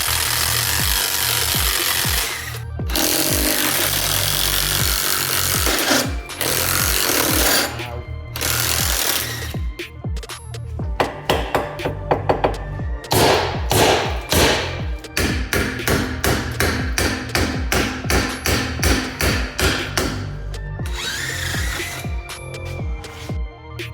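A power tool, probably an impact wrench, works on 22mm and 19mm bolts on a car hub. Loud rattling bursts stop and start, then give way to rapid repeated hammering pulses near the end.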